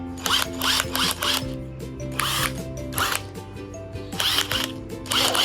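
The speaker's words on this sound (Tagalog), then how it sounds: "Ngayon, i-drill natin sa taas yung mga locking system niya." Battery-powered high-torque drill driving self-screwing fasteners into a locking system, several whirring bursts of motor whine that rise and stop in short, repeated runs, close and fairly quiet.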